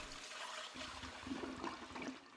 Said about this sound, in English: So now we can flush the toilet.